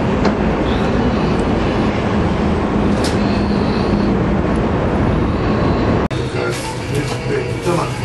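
A train ride, with a loud, steady rumble and rattle of the moving carriage heard from inside, continuous throughout and changing character partway through.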